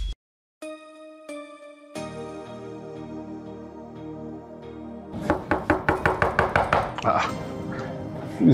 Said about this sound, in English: Who is knocking like that?